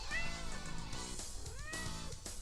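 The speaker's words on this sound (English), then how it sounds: "Freaking cat." A domestic cat meows in a run of drawn-out, wavering calls, loud and close, with no talk over them.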